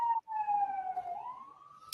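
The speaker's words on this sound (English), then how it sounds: "It's a ambulance." An ambulance siren wailing outside, a single sustained electronic tone that dips then slowly rises, clear and fairly near with no talk over it.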